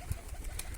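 Pigeons, including Madrasi birds, give a brief, soft, low cooing, faint and close, lasting under a second.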